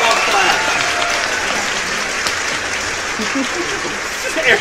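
Steady, dense applause on a podcast-style radio show, a continuous crackling wash of clapping hands that holds at an even level throughout with no quiet gaps.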